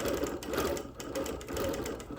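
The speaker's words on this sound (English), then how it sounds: "So I'm going to be quilting right around the edge of that road" A sewing machine quilting through wool, its needle chattering in a steady close whir that pulses in and out as stitching runs, with no voices.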